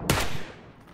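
A quick burst of gunfire in a video game, a loud close crack with a short tail fading into low background noise, no talking.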